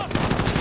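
Rapid gunfire bursts in Call of Duty: Modern Warfare, a dense run of loud shots packed into a brief moment, close and harsh with no voice over them.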